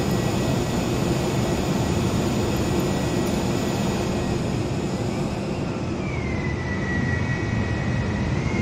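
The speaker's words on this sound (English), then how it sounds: "Sounds like you already have your engines on, sir." The jet engines of a Flybywire A32NX airliner in Royal Jordanian livery, running in Microsoft Flight Simulator. They make a loud, steady broadband roar with a high whine, and one tone glides downward midway, with no voices over it.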